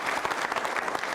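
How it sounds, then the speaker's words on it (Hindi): Brisk applause from an audience at a quiz show for trainee civil services officers, dense and even over a short span, with no voices on top. "तालियां जोरों से बजाइए"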